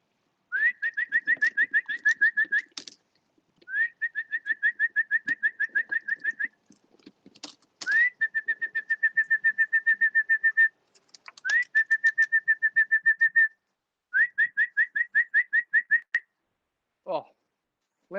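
Racing pigeons arriving at a loft give repeated rhythmic, whistling coo-like calls in several bursts separated by short pauses, fairly clear against a quiet background.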